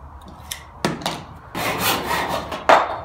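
Hand saw strokes rasp through pallet wood, a few short scrapes followed by longer, steadier back-and-forth cuts, close and fairly loud.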